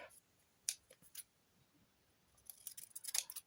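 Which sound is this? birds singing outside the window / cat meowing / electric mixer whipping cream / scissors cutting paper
scissors cutting paper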